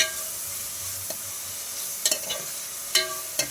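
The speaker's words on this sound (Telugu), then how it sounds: "పచ్చిమిర్చి, ఉల్లిపాయలు ఇవి బాగా ఫ్రై అయ్యేంత వరకు వేపుకోవాలి." Green chilies and onions frying in oil in a pan for a spicy chicken gravy, a steady soft sizzle with a few sharper crackles and stirring clicks, heard close and alone.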